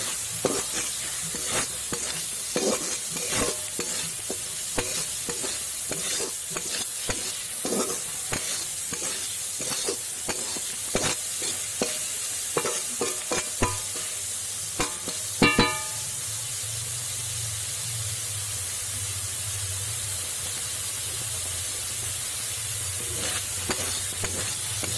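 Prawns are stirred and mixed in a hot pan for malai curry, with a steady sizzle and frying hiss under repeated scraping and stirring strokes, close and fairly quiet.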